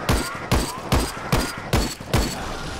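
Repeated heavy gunshots in the Dead Frontier 2 video game, six loud evenly spaced bursts about half a second apart, each with a booming low thump and a sharp crack.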